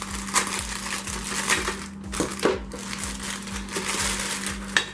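A parcel of Xiaomi M365 Pro scooter parts is unpacked, giving close crinkling, rustling and crushing of packaging with occasional clicks and small knocks, steady and moderately loud, with a low hum underneath.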